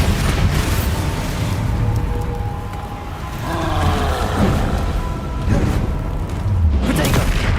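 Blasting spell explosions from the Hogwarts Legacy video game, a loud continuous roar of booming blasts with surges swelling and fading over several seconds, no talking.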